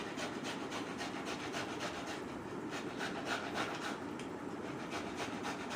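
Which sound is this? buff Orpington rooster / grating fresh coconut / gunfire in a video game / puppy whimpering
grating fresh coconut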